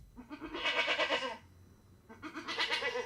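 A goat bleats twice in a recorded clip, two loud nasal wavering cries separated by a short pause, close and clear.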